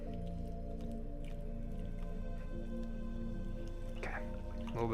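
Wet clay squishing and squelching on a pottery wheel as body weight presses into it, a steady soft wet churn with occasional drips, fairly faint and continuous with no talk.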